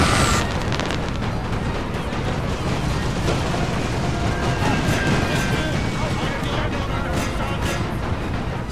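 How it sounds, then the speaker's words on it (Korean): Cannon fire and explosions rumble throughout a battle in Napoleon Total War with a World War I mod, a dense, loud, continuous barrage with scattered cracks and crashes. "여기 애들이 총으로 죽는 게 아니라 대포로 죽는 거"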